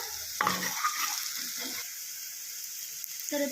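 Onions and green chilies sizzle in a hot pan as the base for a tomato prawn curry, with a steady hiss under a few brief scrapes and knocks of stirring.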